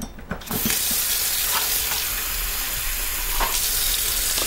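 Water rushes steadily from a kitchen tap as canned beans are drained and rinsed, a loud, continuous hiss close by with a few faint clicks at the start.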